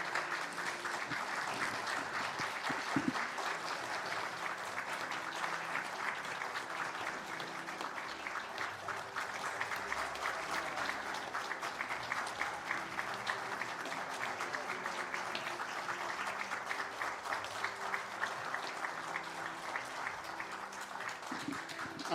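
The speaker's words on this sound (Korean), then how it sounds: "우리 큰 박수로 환호하시면서 감사의 표현을 드리도록" Church congregation at a Sunday service applauding at length, a steady wash of many hands clapping, fairly distant and even, with no clear cheering voices standing out.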